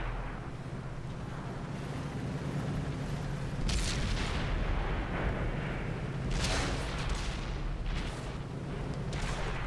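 Heavy booms of tank cannon fire in World of Tanks over a constant rumbling engine drone, with several loud blasts spaced a few seconds apart and their echoing decay.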